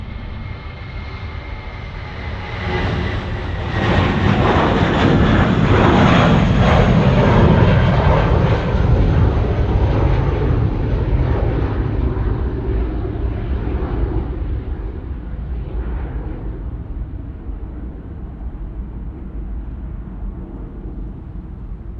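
A Jetstar airliner lands on runway 34 right at Sydney Airport, its engine roar swelling loud as it passes close, then fading into a long, steady rumble that trails off into the distance.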